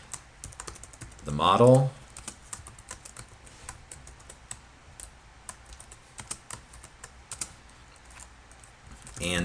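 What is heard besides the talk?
typing on a computer keyboard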